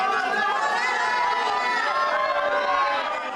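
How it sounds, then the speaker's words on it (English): Excited crowd noise fills a room at a live cycling esports final, steady loud chatter and shouting with cheering mixed in throughout, no single voice standing out. "in the room, the crowd's going crazy"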